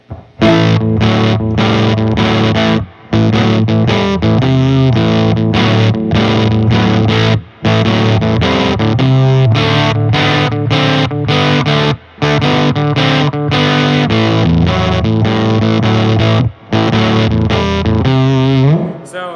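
Loud fuzzy electric guitar chords played through an Earthquaker Devices Erupter fuzz pedal and amp, thick and saturated, with a few short gaps between strummed phrases.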